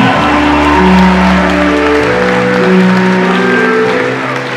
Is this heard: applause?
yes